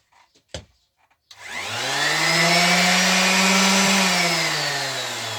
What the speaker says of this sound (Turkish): Gelin fişe takıp makinanın sesini duyalım bir de.